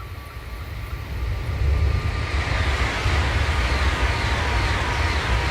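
A Japanese H5 Shinkansen high-speed train on the Tohoku line rushes past with a loud, building roar and airy whoosh that swells after the first second and holds steady.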